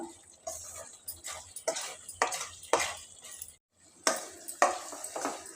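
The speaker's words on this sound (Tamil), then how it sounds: "மீடியம் ஃப்ளேமில் வச்சுக்கிட்டு கிளறிக்கிட்டே இருங்க" Coconut burfi mixture being stirred in a pan on a stove over medium flame, a run of soft scraping and tapping strokes in an uneven rhythm, close and fairly quiet.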